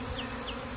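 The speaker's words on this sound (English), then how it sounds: "there's the swarm. They're still" A honey bee swarm flies and buzzes around a clustering site, a steady, dense hum from many insects close by with brief passing whines from individual bees.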